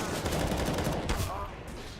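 Rapid, dense gunfire from a CS:GO match in the ESL UK Premiership Summer 2018 playoffs, rattling on without a break for about two seconds as bursts overlap, loud and close.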